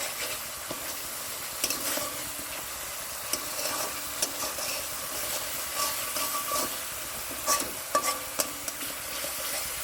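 Bitter gourd and pointed gourd sizzle in a frying pan as a spatula stirs them, giving a continuous hiss broken by irregular scraping clicks, close and moderately loud with no talking.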